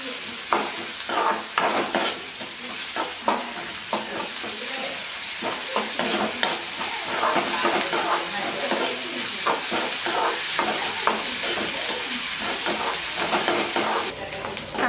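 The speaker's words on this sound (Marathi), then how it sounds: "कांदा हा चांगला परतून झालेला आहे" Onion with garlic and cumin paste frying in a pan for palak vadi bhaji, a loud continuous sizzle broken by frequent scraping stirs throughout, close up with no talking.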